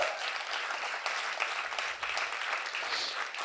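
An audience applauds after a powerful headline spoken-word set at a creativity event, steady dense clapping filling the whole stretch without a break, moderately loud and even.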